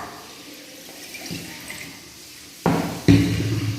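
Clean water poured into a container during a school physical science classroom activity, a steady trickling splash that grows louder and fuller near the end, with no talking.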